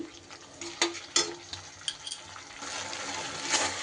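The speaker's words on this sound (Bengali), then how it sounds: "আরও এক মিনিটের মতো আমি কষিয়ে নিয়েছি মশলা" Spice masala sautéed in a pan as a spatula stirs and scrapes in a few sharp knocks, giving way to a steadier, rising sizzle near the end.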